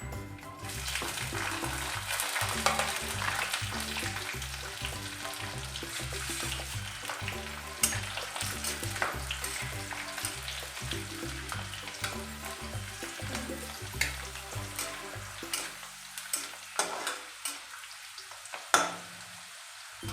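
Garlic and black peppercorns frying in a pan for a chicken curry, a steady close sizzle with scattered crackles and occasional stirring scrapes that thin out toward the end.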